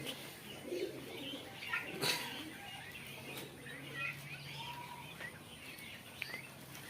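Quails calling on a quail farm, soft repeated cooing and chirping notes from small birds at moderate distance over a low background hum, with a few sharp clicks.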